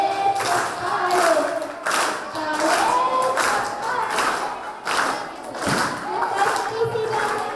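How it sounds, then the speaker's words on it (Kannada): Clapping from a crowd at a school send-off in honour of the teachers, bursts rising and falling in waves, with chanting voices over the top. "ಗುರುಗಳಿಗೆ ಸಾವಿರ ಸಾವಿರ ಚಪ್ಪಾಳೆ"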